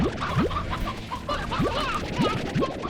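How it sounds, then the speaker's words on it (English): Chickens in the video game Slime Rancher give repeated short rising clucks at an irregular pace over a busy background of game sounds. "More chickens!"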